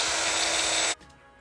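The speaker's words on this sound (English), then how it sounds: "I'm gonna drill this and knock that off there first." A power drill bores into a windshield piece during a Shelby Cobra replica build, a steady high-pitched whine running close and loud for about a second before cutting off abruptly into quiet.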